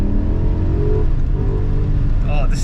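A 2008 BMW E60 M5 drives along with a steady, loud engine drone and rising revs, heard from inside the cabin with no one talking.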